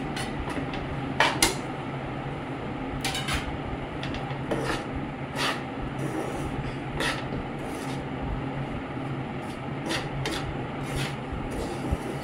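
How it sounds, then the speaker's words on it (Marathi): Semolina and gram flour being worked into wheat flour in a pan, off the heat, for jaggery dry-fruit laddoos: continuous close dry rubbing and scraping with scattered sharp clicks of a spoon on the vessel. "हा रवा आणि बेसन मी यामध्ये पिठामध्ये मिक्स करून घेत आहे."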